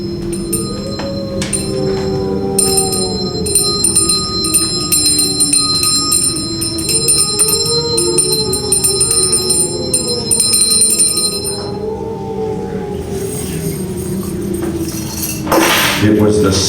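A bell in a live radio play of A Christmas Carol rings repeatedly with bright metallic tones, loud and close, while a narrator keeps talking beneath it; the ringing stops near the end, then a brief clatter follows.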